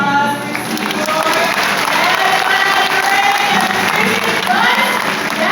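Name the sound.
audience applause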